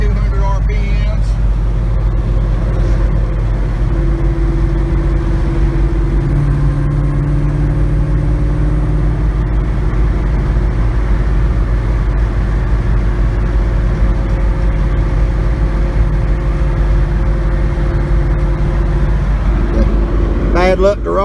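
An LS-swapped Chevrolet Nova cruises on the road at steady speed, its engine a loud, constant low drone with road rumble throughout, while a person talks over it.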